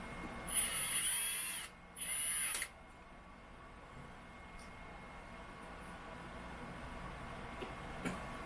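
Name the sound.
Ridgid power drill driving mounting screws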